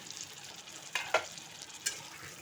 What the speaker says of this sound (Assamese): এনেকৈ কম হিটত মই ভাজি ল'ম পটলখিনি